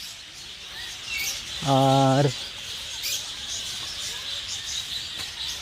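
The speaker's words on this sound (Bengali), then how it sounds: "ডান দিকে একটা খাঁচা রয়েছে, এটা পুরোটাই বদ্রি পাখির খাঁচা।" Budgerigars chirping in a zoo cage at Nandankanan, a constant high twittering over background noise, with a brief loud buzzy harmonic burst midway; a voice briefly speaks.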